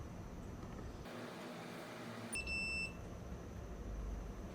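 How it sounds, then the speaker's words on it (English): A multimeter gives a single continuity beep while probing a K10 2017 phone's backlight circuit: one steady, high electronic tone lasting just over half a second, faint against a low background hiss. "With beep test, the path of anode is determined."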